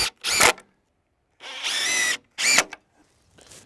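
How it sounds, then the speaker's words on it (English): A power drill drives screws into sub-fascia boards on a barndominium porch roof, in three short, close whirring bursts separated by quiet pauses. "So what I'm doing here is getting some sub-fascia screwed on."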